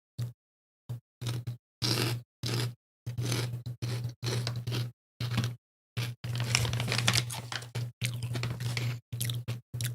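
Someone crunches on crispy salmon skin snacks, close and loud, in repeated short bites and chews separated by brief silences, then a longer stretch of continuous crunching.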